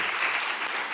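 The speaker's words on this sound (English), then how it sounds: "I think we can give a big round of applause." A full round of applause fills a conference session hall, steady dense clapping from a sizable audience without pause, fairly loud and close.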